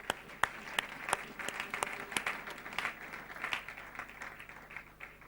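Church congregation claps in a loose, uneven burst of individual hand claps, moderately near, fading over about five seconds.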